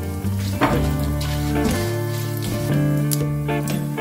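Urad dal and curry leaves sizzle loudly in hot oil in a pan, a close and continuous frying crackle with stirring through it, heard without speech.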